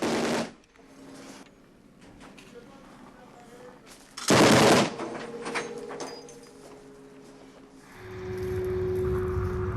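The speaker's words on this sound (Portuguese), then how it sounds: "tomaram a iniciativa de abrir fogo com metralhadoras cujos tiros têm um alcance de cerca de 3 km de distância" Machine gun fire from Kurdish peshmerga forces fighting the Islamic State in Iraq, with bursts of sharp shots of which one is a loud close blast mid-clip, other reports further off, over ambient noise and a low hum.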